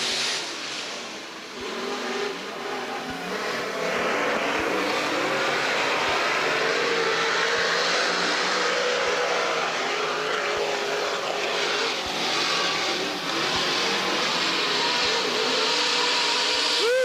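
Race cars at Minneapolis Raceway running four wide during a heat race, a loud continuous roar of several engines with rising and falling revs as the pack passes nearby.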